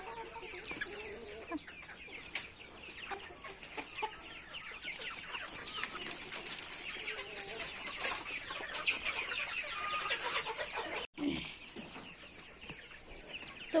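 Chickens cluck steadily and fairly close in a rural yard as they are let out for feeding, a continuous busy chatter of short repeated calls with a brief wing-flap or scuffle near the end.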